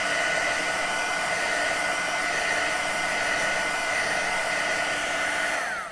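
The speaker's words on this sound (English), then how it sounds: "The heat gun is Wagner and it is from Amazon." A Wagner heat gun blows hot air to dry wet paint, giving a loud, steady, unbroken fan-and-air roar close by that holds level throughout before easing slightly at the end.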